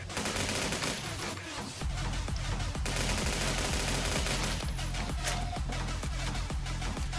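Rapid, dense gunfire from an L22 rifle in Phantom Forces, a Roblox shooter, with sustained automatic bursts running almost the whole time at loud, steady level and a brief lull near the start, with no talk.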